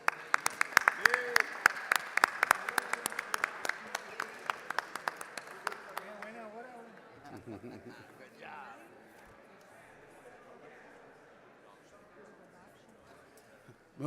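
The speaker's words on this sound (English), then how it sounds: "Members, please help me welcome our distinguished delegation from Sullivan City on Sullivan City Day at the Capitol with a big round of applause." Applause in a state House chamber at the Capitol welcoming a visiting city delegation: dense, steady clapping that thins out and fades after about six seconds into murmured talk and room noise.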